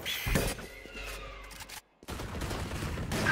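Dense gunfire in a Turkish-commentated competitive video game match, with rapid overlapping shots and bursts filling the clip, broken by a brief near-silent gap before the firing resumes loud and continuous.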